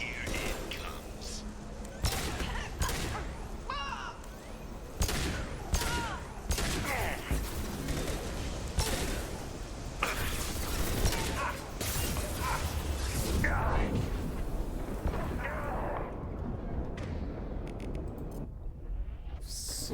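Bursts of gunfire and a fuel tank explosion in the Mass Effect 2 video game, rapid overlapping shots and blasts over a dense, loud battle bed, with voices talking throughout.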